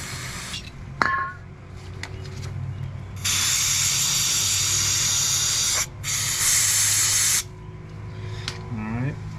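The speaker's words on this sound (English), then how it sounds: "I'm just going to clean this with carb cleaner real good." Carb cleaner sprays in two long, loud hissing bursts while a Bad Boy mower's seized bolt is cleaned, with a short pause between them and faint talk and shop noise before and after.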